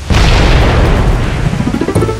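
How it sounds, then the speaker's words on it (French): Rocket explosion in Halo Reach, a loud close boom with a rumbling burst that decays over two seconds. "Y'a rien de plus revigorant que l'explosion d'une roquette."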